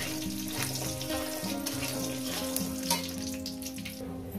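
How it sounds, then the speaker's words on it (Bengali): Bori (lentil dumplings) fry in hot oil, giving a continuous close sizzle and crackle with no one speaking. "এরপরে এই তেলের মধ্যে দিয়ে দেবো বড়ি। বড়িগুলো আমি ভেজে নেব।"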